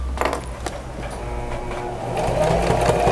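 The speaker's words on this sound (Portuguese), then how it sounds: "Nós vamos passar uma costura reta, com o pezinho de máquina, costura reta aqui para segurar esse bolso ao fundo e a manta" A sewing machine with a presser foot stitches a straight seam through a quilted pocket panel, a steady motor drone with brief pauses and a couple of clicks, close and alone.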